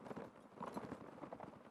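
Horse hooves clip-clop steadily in a Napoleonic Wars battle in Mount & Blade, a rapid, continuous patter with faint battle noise throughout and no clear talk.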